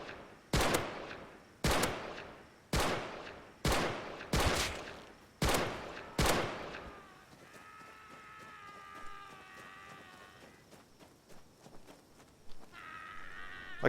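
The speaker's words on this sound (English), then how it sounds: "we'll test it out with the semi-automatic" Semi-automatic rifle in Rust fired six times at an even, deliberate pace, each shot a sharp loud crack with a short tail, followed by quieter ambient tones and faint movement.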